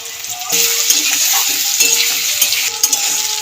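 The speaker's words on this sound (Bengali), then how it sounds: "আলুর মতন করে ওলকপিগুলোকেও ভেজে নেব একটু নুন একটু হলুদ দিয়ে ভাজবো" Kohlrabi pieces frying in hot oil with salt and turmeric in a pan, a loud, continuous close-up sizzle with intermittent metallic clinks and scrapes of a stirring utensil, no speech.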